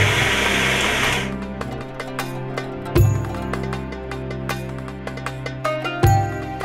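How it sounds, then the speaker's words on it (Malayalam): A kitchen mixer grinder blending cooked rice, soaked raw rice, salt and water, a loud steady motor whine heard close, with two brief surges where the pitch jumps as the blades catch the batter. "ചോറും കുതിർത്ത പച്ചരിയും ആവശ്യത്തിന് ഉപ്പും വെള്ളവും ചേർത്ത് മിക്സിയിൽ അരച്ചെടുക്കുന്നു."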